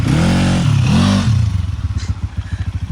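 A motorcycle engine running on a downhill trail near Kathmandu on a ride to a waterfall. It starts with loud, close revs that rise and fall, then settles into a rapid, throbbing idle-like pulse, with no voices.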